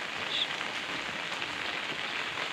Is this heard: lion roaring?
no